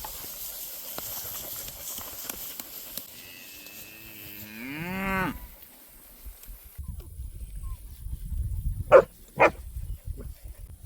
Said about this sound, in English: These puppies are definitely getting their voices now.